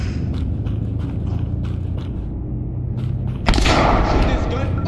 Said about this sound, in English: Shooting this gun to empty it.